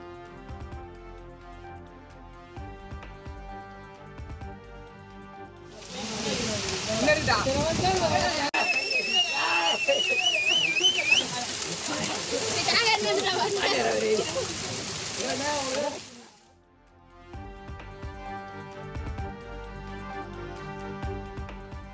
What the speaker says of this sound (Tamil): சுமார் 1 மணி நேரத்திற்கு மேலாக சூறைக்காற்றுடன் வெளுத்து வாங்கிய ஆலங்கட்டி மழை